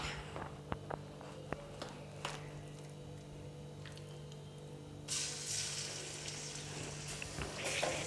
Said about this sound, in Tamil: இது இப்போ நம்ம ஃப்ரை பண்ண போகிறோம்.